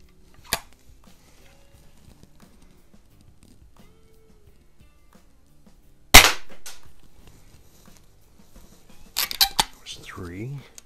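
A Daisy No. 101 Model 36 BB gun fires in sharp, isolated cracks, one faint early shot and a louder one midway, followed by a quick cluster of clicks and handling noises with a brief voice at the end.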